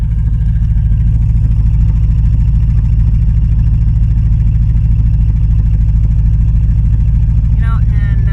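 A 1983 Vandura conversion van's engine idles with a steady, loud low rumble that runs unbroken and close throughout, with no talk over it.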